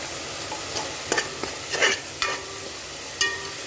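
Chili powder and turmeric sauté in a pan for a mutton and greens dish, with a soft continuous sizzle punctuated by several scraping strokes of a stirring spoon against the metal.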